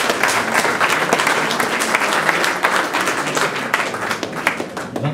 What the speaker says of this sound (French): On peut l'applaudir quand même.